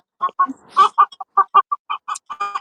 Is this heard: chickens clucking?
yes